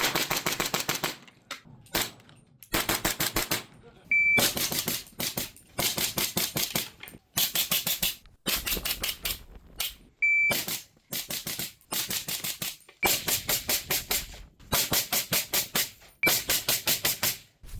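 Rapid strings of suppressed rifle shots through an Otter Creek Labs Infinity suppressor, fired from 5.56, .308 and 300 Blackout rifles; loud sharp bursts repeat in quick volleys with short gaps, no talking.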